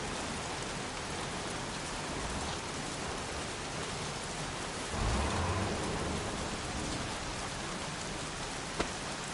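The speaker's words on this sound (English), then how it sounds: "Goddamn rain. Soaking wet." Steady, dense rain pours without a break in a stormy outdoor scene from the video game Heavy Rain, with a short heavier gust midway and a faint sharp knock near the end.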